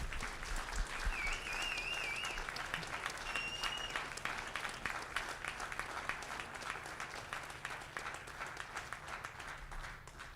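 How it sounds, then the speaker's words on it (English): Sustained audience applause fills a graduation commencement ceremony at an Adventist academy, steady and dense for about ten seconds with a few faint whistles over the crowd. "So give them a round of applause too."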